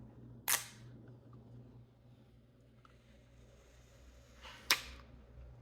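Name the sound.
peeling the protective sticker off a Galaxy S23 Ultra phone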